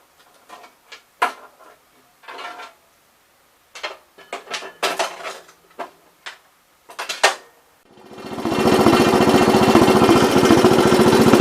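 Metallic clanks and rattles of hitching gear, then a 1970 all-white Gravely 408 walk-behind tractor engine fires up and settles into a loud, steady running drone for mowing.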